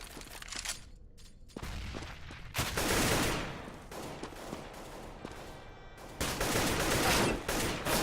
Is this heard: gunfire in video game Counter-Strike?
yes